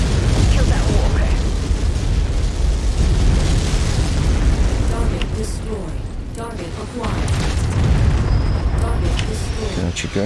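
Artillery shells exploding in MechWarrior 5, heavy continuous rumbling booms and bursts that rise and fall against a low mechanical drone throughout, with a voice talking over the barrage.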